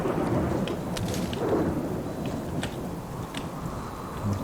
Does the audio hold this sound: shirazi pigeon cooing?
no